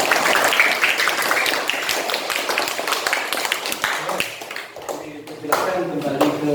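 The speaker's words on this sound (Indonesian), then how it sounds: "tepuk tangan dulu." Classroom students clap their hands together in a dense, lively burst of applause that thins and fades, with a teacher's voice speaking near the end.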